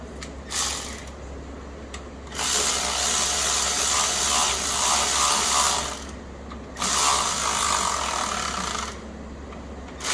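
A ratchet wrench clicks while sockets are swapped during a Vortec valve cover gasket job, with two long bursts of rapid ratcheting separated by quieter pauses, close to the microphone and with no talking.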